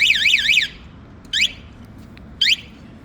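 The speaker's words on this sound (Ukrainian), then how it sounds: "Ось такі опції має сигналізація" An electronic alarm on a Sport Energy AFB200 quad bike warbles rapidly in rising and falling sweeps, then gives two short chirps after brief pauses, loud and close.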